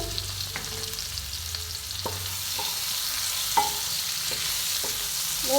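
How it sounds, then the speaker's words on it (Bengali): Green tomatoes frying in a pan with salt for a prawn curry, a steady sizzle under light repeated stirring clicks of a spatula, close and even throughout. "এভাবে টমেটোটা আমি কিছুক্ষণ ভেজে নেব"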